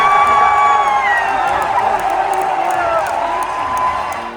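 Crowd of fans, including a Polish contingent, cheering loudly at a Winter Olympic event in Milan, a sustained roar of shouts and whoops that slowly fades toward the end.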